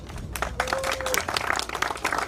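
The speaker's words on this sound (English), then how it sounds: "Let's give them a round of applause" Crowd applause for race winners at a Radical Cup North America trophy ceremony at Sebring, a busy clatter of clapping mixed with voices and a brief whistle-like tone.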